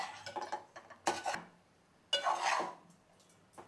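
Dried prawn curry with chilli powder, salt and turmeric being stirred in a pan, giving a few separate bursts of metal spoon scraping and clattering against the pan, with short pauses between them.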